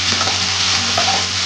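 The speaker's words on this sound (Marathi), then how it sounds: "बारीक कट केलेला एक कांदा, एक टोमॅटो, मटर, गाजर, शिमला मिर्च हे सर्व आता मिक्स करून घेऊयात" Chopped onion, tomato, peas, carrot and capsicum stirred together in a hot pan for shevai upma, a loud continuous sizzle with spoon scraping up close, no voices.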